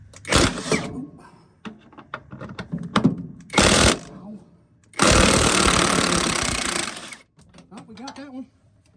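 A power tool cuts at a bolt on a Freightliner M2 truck in several harsh, loud bursts, the longest lasting about two seconds, with someone talking between bursts.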